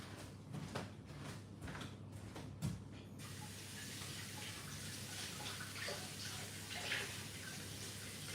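Zucchini being washed under a running kitchen tap, a steady close hiss of flowing water with soft splashing and rubbing, preceded by a few brief knocks.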